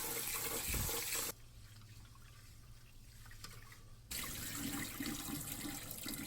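Glutinous rice (chapsal) being washed by hand in water for Korean makgeolli, a steady running-water wash with a quieter swishing stretch in the middle, close and continuous.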